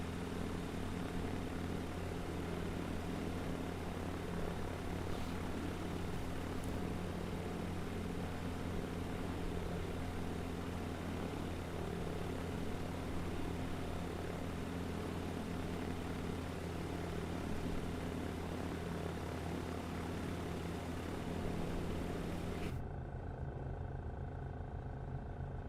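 Small propeller airplane in flight, its engine and propeller giving a loud, constant roar heard from the cabin throughout, briefly shifting character near the end, with no voices.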